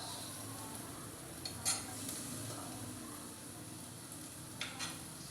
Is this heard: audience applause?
no